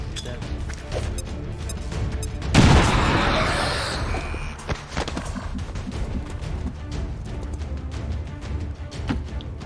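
A grenade blast in a combat video game erupts as a loud, sudden burst that rumbles and fades over about a second, amid scattered clatter, gunfire-like cracks and voices before and after.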